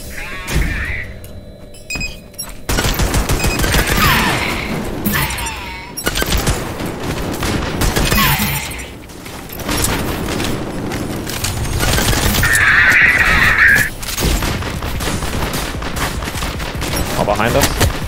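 Gunfire in the video game LEAP, bursts of shots and booms running through most of the stretch, loud and dense, with voices talking over the fight.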